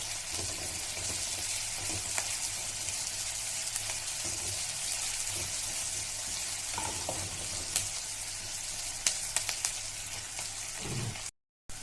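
Green and red chillies sizzling in hot oil in a pan, a continuous close hiss of frying with small pops and crackles, steady throughout before cutting off near the end.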